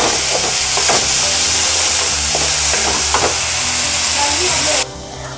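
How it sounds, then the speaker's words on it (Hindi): Chopped onion, garlic and ginger frying loudly in a pan, a dense close sizzle with stirring scrapes that drops off abruptly near the end. "प्याज को मैंने ब्राउन होने तक पका लिया है"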